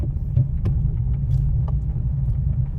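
A learner's car engine rumbles and vibrates steadily at low revs in first gear, heard from inside the cabin with a few faint knocks and clicks.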